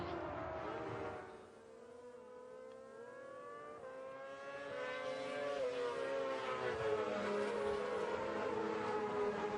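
Racing sidecars at Donington Park pull away on their warm-up lap, a loud layered engine drone with rising revving harmonics as machines accelerate, dipping briefly then swelling again, close and continuous with no talk.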